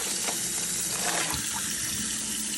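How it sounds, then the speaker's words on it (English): Tap water running over a plastic baggie being rinsed out at a sink: a steady splashing flow with soft crinkly rustles mixed in, close and continuous for a couple of seconds. "So what I'm gonna do is I'm just gonna rinse it out."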